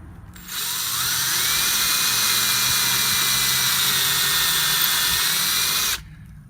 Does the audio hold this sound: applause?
no